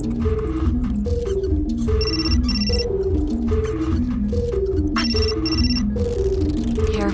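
A phone in the video game Still Life 2 rings in a repeating electronic ringtone pattern, loud and steady over quiet game music, with no talking.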